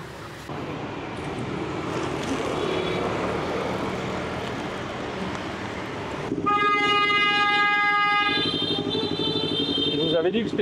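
Street traffic in Hanoi, Vietnam, with a constant rumble of motorbikes and engines, then loud, sustained horn blasts that dominate the second half, close by and layered over the traffic.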